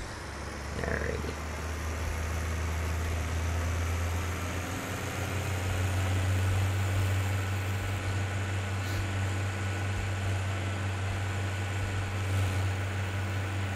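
Steady low tractor engine drone in Farming Simulator 17, a constant rumble that swells slightly after a few seconds and holds for the whole stretch, with a brief faint click near the start.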